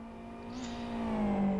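Race car engine in the video game GT Cup race at the Kyoto GP circuit, a single steady tone that rises slightly in pitch and grows louder over a short stretch, with no talking.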